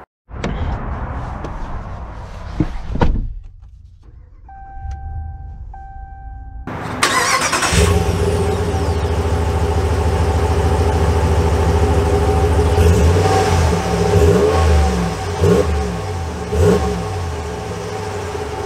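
A 2022 Ram 1500 Rebel pickup starts up after a short quiet pause, with an electronic chime beforehand, then its engine settles into a loud, steady rumble that rises as the truck pulls away.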